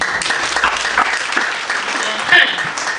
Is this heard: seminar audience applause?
yes